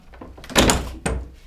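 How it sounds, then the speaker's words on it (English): A wooden farmhouse door that closes only partly moves with two close thumps and knocks, nearby and fairly loud, with no voices. "There's also a nice detail on this door. It can be closed only partly,"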